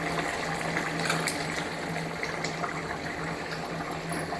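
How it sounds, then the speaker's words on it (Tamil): Soft, continuous liquid sound with a faint bubbling hiss as tamarind water is poured into a simmering eggplant curry. "புளி தண்ணி சேர்த்தாச்சு"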